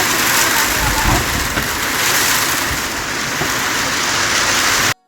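Heavy rain pours down in a dense, continuous roar during a fierce village windstorm, loud and close throughout, then cuts off abruptly at the end.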